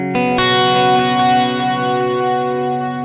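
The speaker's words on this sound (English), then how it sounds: "I might turn on that dual delay because it's going to last a little longer." An electric guitar chord rings out through the dual delay of a Kemper Profiler Performance, its repeats stacking into a long, shimmering sustain that slowly trails off.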